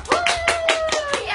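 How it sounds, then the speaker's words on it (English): Studio audience clapping during a live talk show taping, several loud bursts of applause in quick rhythm with a whistle-like tone running through, close and lively. "Let's hear the applause."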